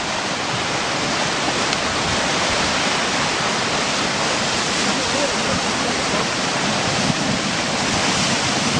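Drifting river ice and breaking floes make a loud, steady broadband rush of churning water, a dense roar that holds without pause throughout.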